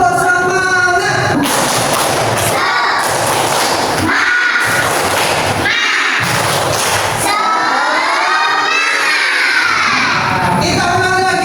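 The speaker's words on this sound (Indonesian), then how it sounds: "Kita tepuk semangat dulu." A classroom group performs the "tepuk semangat" clapping chant, loud voices calling out in rhythmic bursts with a few pauses between phrases; shouted group chanting dominates rather than distinct claps.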